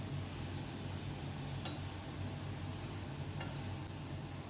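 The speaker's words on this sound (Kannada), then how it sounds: "ಸ್ವಲ್ಪ ಹೊತ್ತು ಹೀಗೆ ಫ್ರೈ ಮಾಡಿದೆ" Chicken sausage fries in a pan with a constant soft sizzle and a faint hiss, quiet and steady throughout, with no talking.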